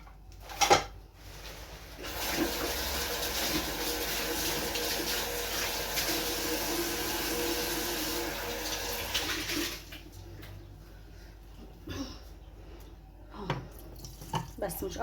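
Tap water runs steadily into a sink for about eight seconds while making pizza dough, with a faint clatter before and after it.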